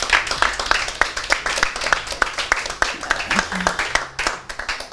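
Scattered, uneven clapping from a small group cheering on make-up contestants at a televised beauty competition, individual claps distinct and fairly close, with faint voices underneath.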